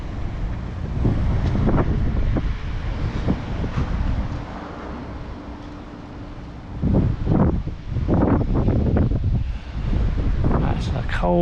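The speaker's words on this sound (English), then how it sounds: "That's a cold wind we got today" Cold wind gusts and buffets the microphone beside a railway line at Alfreton in the East Midlands, a steady roar with louder bursts, while someone talks over it.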